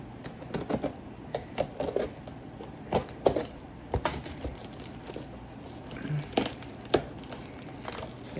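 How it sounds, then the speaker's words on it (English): A diamond painting kit box being cut open with a blade, heard as scattered light ticks, scrapes and crinkles of cardboard and plastic at close range, fairly quiet and irregular. "I am going to go ahead and cut it open, see if we can get inside here."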